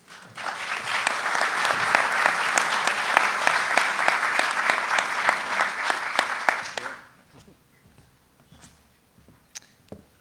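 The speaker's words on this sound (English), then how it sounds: "let's give one more big round of applause to our presenters" A conference audience gives presenters a loud, dense round of applause that holds steady for about seven seconds, then cuts off, leaving a quiet room with a few scattered claps and small noises.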